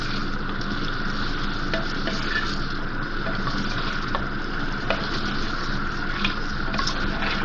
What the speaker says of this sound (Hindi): गोश्त डालने के बाद इतना इसको मिक्स करना है, भूनना है कि गोश्त का कलर चेंज हो जाए।